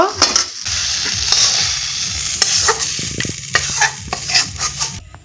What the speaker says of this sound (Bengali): নাড়াচাড়া করে কুটটা রান্না করে নিই